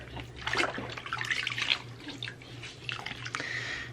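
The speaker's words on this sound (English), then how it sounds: "make sure that you rinse their neck out real good" Water splashes and trickles close by as a newborn baby's neck is rinsed during a bath, in soft, uneven pours and drips over a low background hum.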